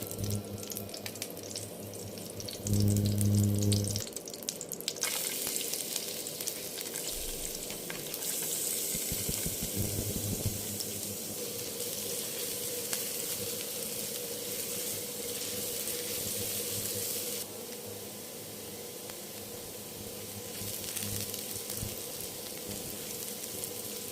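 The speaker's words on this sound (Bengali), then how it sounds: "ভেজে নিয়ে আমি এখানে লাল শাকটা দিয়ে দিচ্ছি" Oil frying in a pan with onion and garlic, then red amaranth greens tossed in, a steady hiss with a louder burst early on, water-like sizzling and stirring continuing throughout, no talking.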